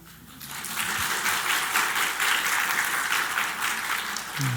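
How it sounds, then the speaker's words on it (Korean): Church congregation of a Korean immigrant church bursting into applause, the clapping swelling quickly after a quiet start and staying dense and even for several seconds before a voice begins to speak at the very end. "박수 치면 좋죠?"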